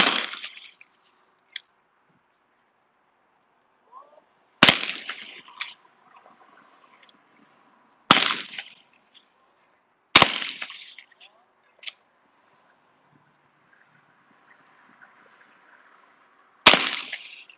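Shotgun shots at clay targets on a skeet field with high and low houses ring out as five sharp, loud reports spaced a few seconds apart, each followed by a short decaying tail, with quiet between them.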